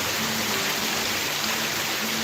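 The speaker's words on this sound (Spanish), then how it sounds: "Mira qué calle, el río por las calles." Steady rushing of a river of water running through old village streets, a continuous broadband wash heard close and alone with no talk.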